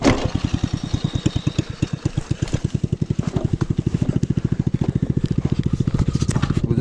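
Small engine of a cheap 130-euro buggy running with a fast, regular putter of firing pulses, close and steady with minor speed wavering, no talk over it.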